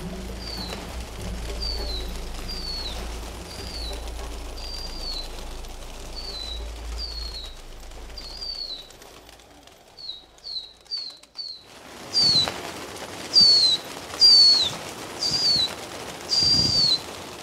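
Repeated short pigeon calls chirp in a steady series over low rumble on Old Delhi rooftops, then louder, closer calls ring out after a brief quiet stretch.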